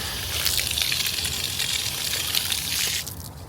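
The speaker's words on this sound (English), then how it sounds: "Alright, so we got full water here now." Water gushes loudly and steadily from a gas pump handle rigged up as a garden hose, a dense rushing flow that runs unbroken for about three seconds and then drops away abruptly.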